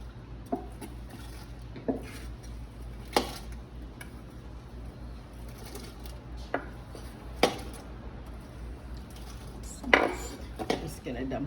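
Rough-chopped parsley dumped into a pot of broth for gumbo in a home kitchen, with intermittent clinks and knocks of utensils against the pot over a steady low hum.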